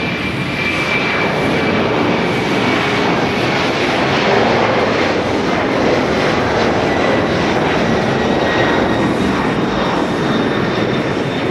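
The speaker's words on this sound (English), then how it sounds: "Here comes another 767." A Boeing 767 airliner at Haneda Airport produces a loud, continuous jet engine roar, broad and steady throughout with a faint high whine on top and no talking.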